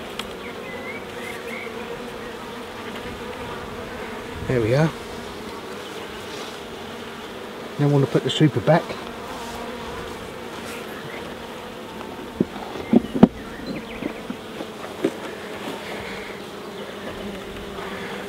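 Honeybees drone around an opened hive during a beekeeping inspection, a steady close buzz throughout, with someone talking intermittently and brief knocks and clatters of hive parts being handled.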